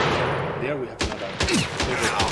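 A moving turret fires projectiles in a 2D sidescroller game with a Contra-style update, producing a rapid burst of short gunfire blasts and zapping effects that run in close succession.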